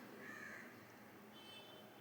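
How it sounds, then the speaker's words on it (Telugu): A crow caws outside a house, a harsh call that sounds faint and distant over a low steady background hum, with no talking. "ఇందాక నుంచి కాకి అరుస్తుంది గాయస్ మా ఇంటి బయట"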